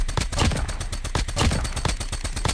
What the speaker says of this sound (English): AK-47, just because it does have that slower fire rate, so you have to be a bit more accurate with it.